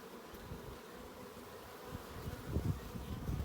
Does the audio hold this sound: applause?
no